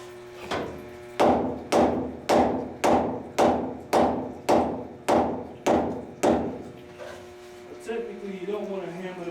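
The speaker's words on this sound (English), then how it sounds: "Technically, you don't want to hammer it too hard." Hammer blows drive a plug into a leaking boiler tube, about ten loud, evenly spaced metallic strikes ringing close by, followed by someone talking.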